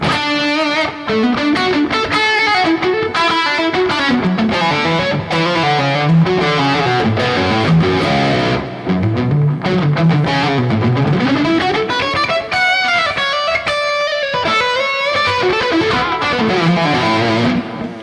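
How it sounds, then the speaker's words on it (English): Electric guitar played through a Neural DSP Archetype Nolly amp plugin with a distorted lead tone, a loud continuous solo of sustained bending notes and fast runs with no talking. "I'm actually running a Neural DSP plugin right now. I'm using the archetype Nolly. It's pretty rad for lead tones."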